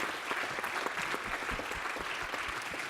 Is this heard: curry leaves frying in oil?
no